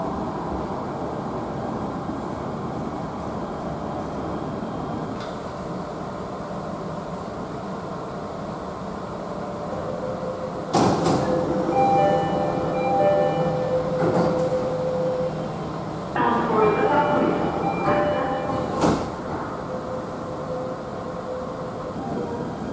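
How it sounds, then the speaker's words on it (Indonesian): A Jakarta MRT train rumbles along the rails toward Lebak Bulus with a steady interior drone, broken by sharp clunks, brief squeals and rising whines as it moves. "This is MRT Jakarta train"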